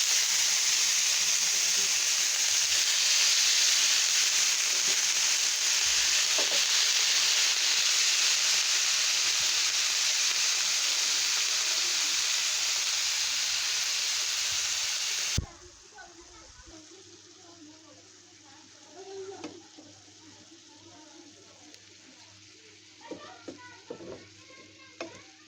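Cabbage fries Chinese-style in a pan with onion, garlic and green chilli: a loud, steady sizzle that drops abruptly to a quieter crackle with occasional stirring knocks.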